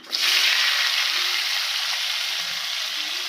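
Finely chopped onions hit hot oil with cumin seeds and spice, setting off a loud steady sizzle that starts suddenly and keeps going close to the pan, with no talking.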